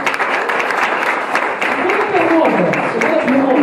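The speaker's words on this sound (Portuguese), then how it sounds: "Pode aplaudir o Senhor para ver." Applause from a church congregation fills the room throughout, steady and dense, with a voice rising over it toward the end.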